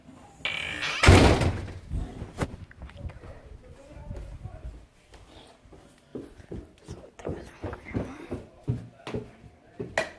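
A door on a quarter horse farm closes with a loud, close thud near the start, followed by scattered knocks and footsteps while people talk.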